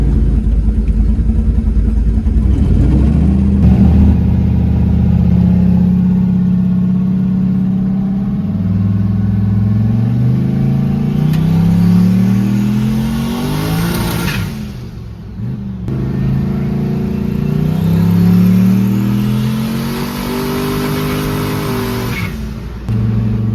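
A boosted Chevrolet C10 truck off a trans brake revs hard and spins its tires, engine climbing loud through repeated gear pulls with a short drop in between, no talking.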